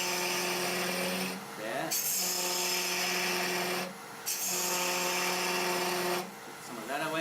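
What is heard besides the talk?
quarter gouge cutting wood on a lathe, turning a goblet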